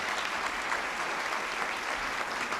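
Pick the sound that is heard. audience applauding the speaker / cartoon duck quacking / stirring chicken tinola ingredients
audience applauding the speaker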